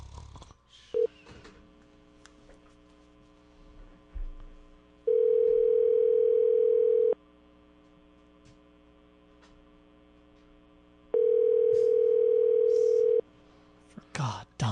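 A telephone dial tone comes in two long, loud steady bursts of about two seconds each, separated by quiet stretches with faint background noise and brief bits of sound.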